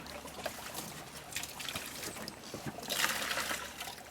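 Tap water trickling steadily and close by, a soft continuous dribble with a brief louder splash near the end, used in cider making at a home press.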